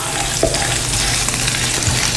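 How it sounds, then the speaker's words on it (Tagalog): Ginger sautés in hot oil in a wok, a continuous close sizzle with faint scraping stir sounds, no talk. "Gigisa na po tayo"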